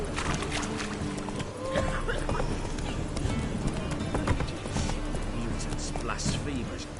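Horse hooves galloping in The Witcher III, a fast rolling clip-clop that runs steadily throughout and stays loud and near, with a rider's voice calling out over it.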